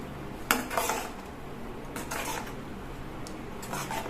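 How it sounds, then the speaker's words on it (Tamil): A spoon stirs thickening toor dal chutney in a cooking pot after hot water is added, giving a few close, sharp scrapes and clinks against the metal amid soft bubbling. "அடி பிடிக்கிறதுங்கிறதுனால கலந்து விட்டுக்கிட்டே இருக்கணும்."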